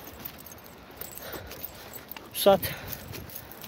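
A metal chain rattles briefly in one short jangle, tied on an animal while sheep are driven up toward the highland pasture; someone talks nearby before and after it over faint outdoor background.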